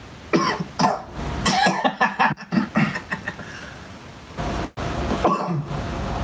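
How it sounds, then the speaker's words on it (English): A string of coughs and throat-clearing bursts, close and fairly loud, with short gaps between them. "It's just an inconvenient cough."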